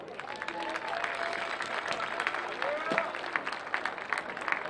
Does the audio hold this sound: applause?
yes